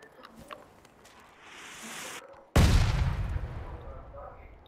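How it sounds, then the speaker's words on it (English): A mortar shell blasting in PUBG: Battlegrounds, a sudden loud booming impact midway that rumbles and decays over a couple of seconds, preceded by a rising whistle and faint distant gunfire. "Incoming mortars."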